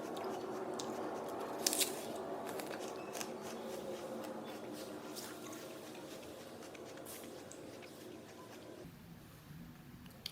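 Bites and crunches of a large Envy apple being eaten up close, with repeated crisp crunchy bursts over steady chewing and no talking.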